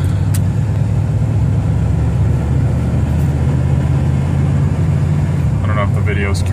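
A 1979 Buick Regal V8 coupe accelerates on the road, heard from inside the cabin as a loud, steady low engine drone with road rumble. A voice speaks briefly near the end.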